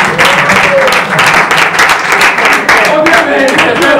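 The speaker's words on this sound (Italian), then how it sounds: "Applaudite." An audience at an event breaks into sustained applause, dense and fairly loud clapping carrying on steadily throughout with no voices over it.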